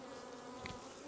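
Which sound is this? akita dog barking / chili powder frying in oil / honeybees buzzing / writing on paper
honeybees buzzing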